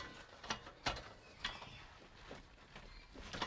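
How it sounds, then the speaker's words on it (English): A 17mm socket on a ratchet loosens the brake caliper bracket bolts on a Subaru Impreza during a pad and rotor change, giving several separate metallic clicks and ratchets spaced across the moment, close and moderately loud. "take my 17mm socket and take this bracket off"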